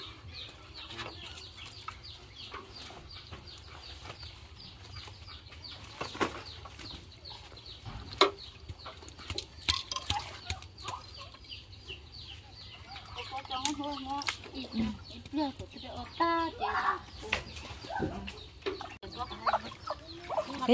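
Chickens cluck continuously around a rural yard, with scattered sharper clucks and some rooster calls, fairly distant under low background noise and occasional voices.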